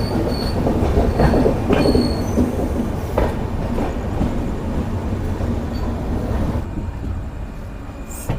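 An Indian express train on the Dehradun–Tanakpur route passing beneath another railway line: loud, steady rumble and clatter of wheels on track, with intermittent high metallic squeals, close and continuous for several seconds.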